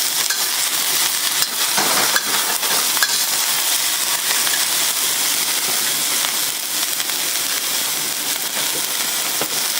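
Wide rice noodles with cabbage are stir-fried in a hot oiled wok for beef chow fun, filling the scene with a loud, continuous close sizzle and crackle, dotted with occasional scraping tosses.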